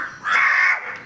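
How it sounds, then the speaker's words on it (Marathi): A single crow caws close by, one drawn-out harsh call lasting most of a second with a weaker trailing note, heard outdoors during a rainy walk with no talk over it. "तो पण काव काव काव चालू आहे त्याचं."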